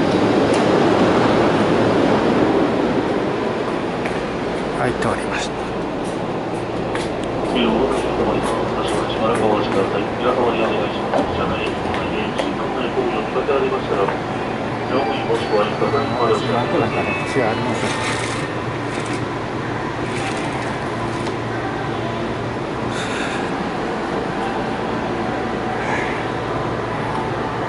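A Kintetsu train rolls along after leaving Kintetsu Nara Station, with a steady rumble and a grinding wheel-on-rail rasp. A person talks over the running noise.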